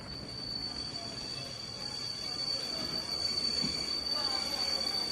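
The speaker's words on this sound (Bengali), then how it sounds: "হঠাৎ ট্রেনটা একটা প্রচণ্ড ঝাঁকুনি দিয়ে থেমে গেল।" A train rumbles on the rails under a sustained, piercing wheel squeal, a continuous metallic screech over low rolling noise that builds slightly, as in a train braking to a sudden stop.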